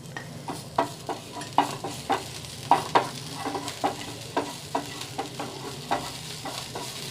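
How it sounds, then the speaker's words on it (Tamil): Chopped garlic cloves and a small piece of ginger stirred in a hot pan, with soft sizzling under repeated spoon scrapes and taps in an irregular rhythm, close and fairly quiet. "இப்போ இந்த 2 பூண்டு பல், ஒரு சின்ன பீஸு இஞ்சி கட் பண்ணி வச்சுருக்கேன் இல்லையா, அதை சேர்க்குறேன்."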